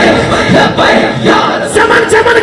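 A large crowd chants the Nara-e-Haidri slogan at a religious gathering, voices loud and close, rising together in rhythmic shouted bursts.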